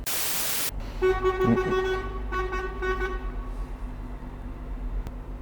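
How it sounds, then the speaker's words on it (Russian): A car horn sounds in a parking lot: a sustained honk of about a second, then a couple of shorter toots, fairly loud and close, with an engine rumble underneath. "Кому ты там бибикаешь, ты один на всю парковку вообще."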